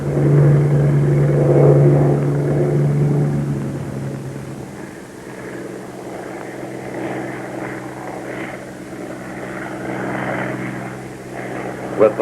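A Bell P-39 propeller fighter drones steadily in flight, its engine hum loud and continuous throughout, easing slightly after the first few seconds.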